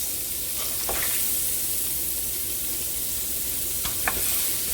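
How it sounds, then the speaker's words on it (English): Shallots and carrots sizzle in pancetta and short rib grease for braised beef, a steady close frying hiss with a few light stirring clicks and scrapes, no voices. "And stir that around in that grease."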